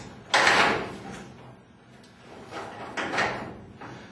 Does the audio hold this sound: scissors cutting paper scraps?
no